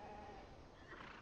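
Sheep bleat faintly in Beyond Two Souls, a short, quiet call or two set against steady background ambience, with no voices.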